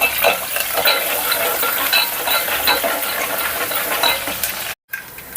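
Onions frying and stirred in a pan while tempering green sorrel dal: a steady close sizzle with repeated scraping and clinking strokes of a utensil, broken by a brief gap near the end.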